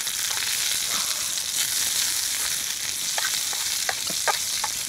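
Onions frying in a pan give a steady, close sizzle throughout, with a few faint clicks of stirring and no talk.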